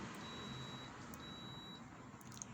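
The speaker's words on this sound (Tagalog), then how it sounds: "naka-buzzer siya para pagka isinyort natin, tutunog siya." A continuity tester set to buzzer mode beeps faintly in two long tones while probing an electric fan motor wire, set against a soft steady background hum.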